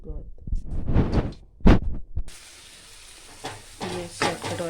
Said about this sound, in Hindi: ये बन रही मेरी दाल का तड़का